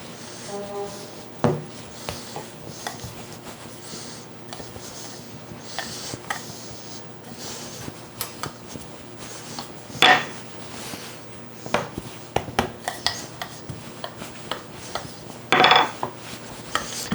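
A metal cookie cutter presses through shortbread dough for heart shapes, giving scattered clinks and soft scrapes against a hard work surface, with a few sharper knocks, close and otherwise quiet.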